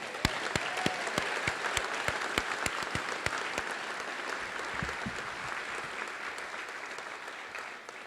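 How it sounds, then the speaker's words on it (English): Graduates at a commencement receive steady applause from the crowd, with a few sharp, distinct close claps ringing out over the continuous patter for most of the stretch. "can we just give these guys a round of applause?"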